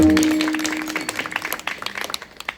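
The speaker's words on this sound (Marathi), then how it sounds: "एकदा जोरात टाळ्या" Audience clapping at a kirtan devotional gathering, a burst of scattered handclaps that thins out and trails off over a couple of seconds after a sustained tone fades.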